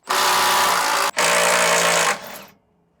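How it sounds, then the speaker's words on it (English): An impact driver removes 12mm skid plate bolts under a Toyota 4Runner in two loud, close, continuous bursts with a brief pause between them, then winds down to silence. "Take our impact driver, take it right off."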